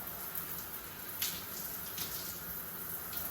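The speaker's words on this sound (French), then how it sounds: "Du coup là faut que je me rince très rapidement" Water runs steadily from a tap while hair is rinsed, a soft, even splashing hiss with a few brief spatters, faint and fairly close.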